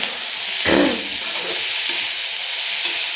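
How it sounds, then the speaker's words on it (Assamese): Green chillies fry in a pan with a close, continuous sizzle and hiss, swelling briefly as they are stirred early on, then settling back to a steady crackle. "মই জলকীয়া ভাজিছোঁ"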